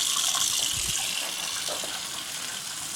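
Boiling water poured steadily from close by over freshly harvested greens, a continuous loud rushing gush with a slight splashing texture throughout, no talk over it.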